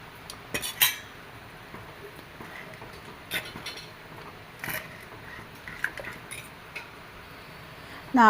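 A spoon stirs tomato curry with curd in a pot, giving a few sharp metallic clinks and scrapes against the pot over a soft, steady background.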